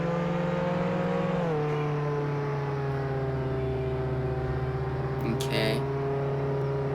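In the Roblox game Jailbreak, a Chevy Silverado tow truck engine holds a steady, droning tone, drops in pitch after a second and a half, then runs on evenly and loud with a brief bump near the end.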